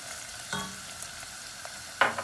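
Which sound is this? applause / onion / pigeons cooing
onion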